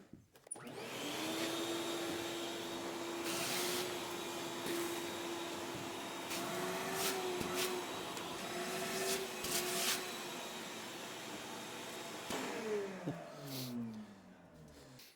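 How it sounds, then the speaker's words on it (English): Vacuum cleaner roaring steadily while clearing debris in a workshop, a loud continuous whine with bumps and clatters as the nozzle picks up material, the pitch dropping as it winds down near the end. "Get our vacuum. I'm gonna clean up"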